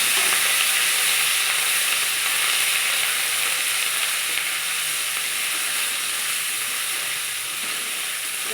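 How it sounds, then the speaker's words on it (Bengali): Continuous, dense sizzling of coriander, cumin and ginger pastes frying with chopped green chilli in hot oil, a loud even hiss that holds steady throughout with no talking. "দেখুন মশলাটা ভাজা ভাজা হয়ে এসেছে"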